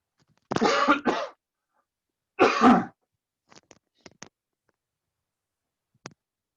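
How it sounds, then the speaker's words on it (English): A few harsh throat-clearing bursts up close, followed by soft scattered mouth clicks and quiet pauses. "Can you give me a second while I just try and clear my throat completely?"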